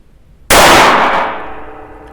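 A single sharp, loud gunshot from a Tanfoglio derringer, a sudden crack with a ringing, metallic decay lasting over a second, close and alone.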